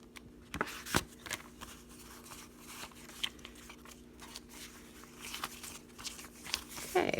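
Paper money bills are riffled and counted by hand for cash envelopes, giving quiet, close crisp rustles and flicks in short bursts with soft handling noise between.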